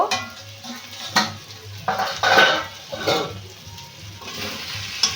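The lid coming off a pot of lote fish simmering with potatoes, heard as a few close metallic clanks and scrapes over a soft bubbling background.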